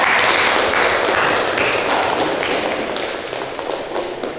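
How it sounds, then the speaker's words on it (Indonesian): A classroom of children claps for a student, a dense, steady wash of clapping that fills the whole stretch and fades slightly toward the end, with no talking over it. "tepuk tangan untuk Ade Hinda"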